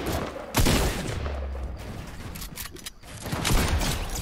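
Gunfire in Fortnite during a duo match, a loud burst of rapid game shots with booming impacts, continuing in clusters through the moment and then building again.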